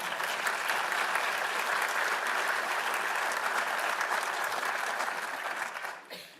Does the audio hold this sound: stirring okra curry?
no